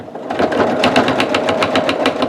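Sewing machine stitching quilt fabric, a fast, even rattle of needle strokes in a rapid rhythmic burst, close and fairly loud, heard alone.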